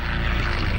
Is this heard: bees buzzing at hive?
no